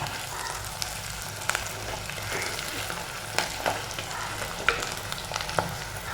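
Kudampuli, or Malabar tamarind, fries in hot oil with a steady, close sizzle and crackle, broken by occasional sharper pops and stirring scrapes, with no voices over it.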